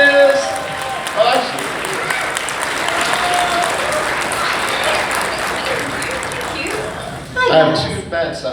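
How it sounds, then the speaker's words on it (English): A fan festival panel audience at Dallas breaks into sustained applause, a dense wash of clapping that fills the room before voices come through near the end. "Let's give a big round of applause."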